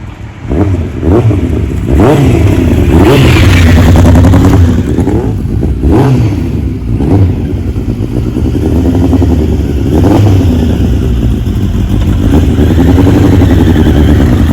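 A 1992 Suzuki GSX1100S motorcycle engine runs loud and close, its revs swelling and dropping in repeated cycles over a steady low rumble.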